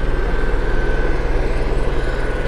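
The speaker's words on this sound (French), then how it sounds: "Ah, j'ai un hélicoptère là." Helicopter flying overhead in Maine, a continuous loud rotor and engine drone with steady pulsing, no talking.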